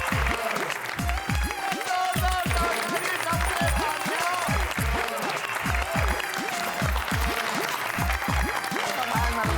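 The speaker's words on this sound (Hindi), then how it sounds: "आपके इस उपलब्धि के लिए एक बार फिर से जोरदार ताली" Loud rhythmic clapping from a gathered audience on the Taarak Mehta Ka Ooltah Chashmah set, hands beating in a fast regular unison pulse over a background of music or crowd noise.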